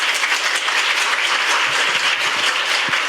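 Steady, dense applause from a seated audience opens a Korean National Assembly policy forum on nutrition and care for healthy lifespan, holding at an even level throughout with no voices.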